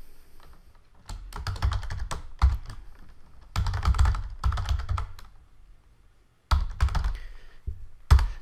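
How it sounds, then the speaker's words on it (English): Bursts of rapid typing on a computer keyboard while entering an email address, close and clear, in several runs of clicking keystrokes separated by short pauses, with no talking. "type in your own email address"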